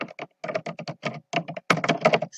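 Close, brisk typing on a computer keyboard, with rapid clusters of clacking keystrokes broken by brief gaps and a few heavier key presses, no voices.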